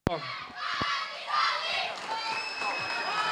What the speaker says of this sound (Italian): Un bel applauso per loro.